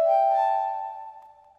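One keys-style note from the ANA Keys preset of the ANA 2 synth plugin in FL Studio, a bright tone that rings and gradually fades over about a second and a half, heard alone.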